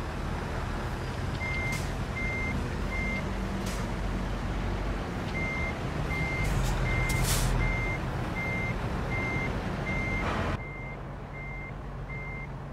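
A truck in American Truck Simulator gives steady evenly spaced reversing beeps over a loud continuous engine rumble, with a brief hiss of air brakes partway through and no voices.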